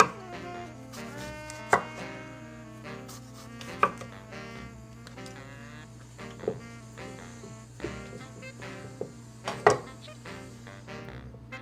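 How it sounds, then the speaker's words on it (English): A knife slices a very large homegrown cucumber into thick pickle rounds, with sharp chops landing at irregular intervals on a board under a steady, faint background hum. "So huge pickle slices. Cutting a little thinner than the other ones."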